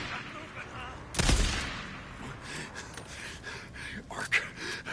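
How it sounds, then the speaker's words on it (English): A loud burst of gunfire opens a Days Gone firefight, followed by scattered quieter shots and rustling action sounds, with no talking heard. "Okay, you can shoot me, but I can't shoot you."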